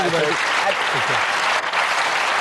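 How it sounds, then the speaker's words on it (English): A studio audience at a live daytime television show breaks into dense, sustained applause, loud and close throughout, with a voice speaking briefly underneath at the start. "That's got to be worth a round of applause."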